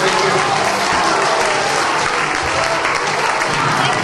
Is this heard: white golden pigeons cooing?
no